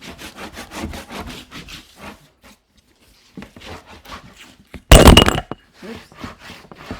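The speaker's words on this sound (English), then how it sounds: "I'm going to take my bone folder and burnish." A bone folder rubs across paper and chipboard in a run of quick, even strokes while mini album covers are made, followed by a few scattered scrapes, one loud brief rub, then softer strokes.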